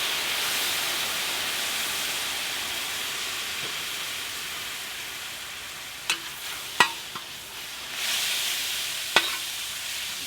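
Wild turkey pieces with a bourbon glaze sizzle on a FireDisc cooker. A steady hiss of frying runs throughout, broken by a few sharp pops and clicks near the end, with no talking.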